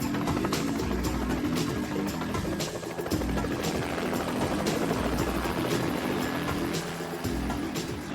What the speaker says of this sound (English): Helicopters are amazingly effective firefighting tools, as they can drop buckets of water on flames with surgical precision.